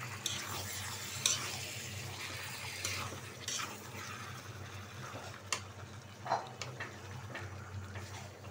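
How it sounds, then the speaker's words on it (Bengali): Chicken pieces being stirred with spices in a curry pan: a steady low sizzle with irregular scraping strokes of a spoon against the pan, fairly close, no voices. "এখন মশলার সাথে মিশিয়ে দিব"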